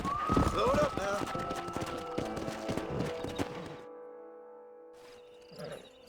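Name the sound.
horse hoofbeats while riding in video game Red Dead Redemption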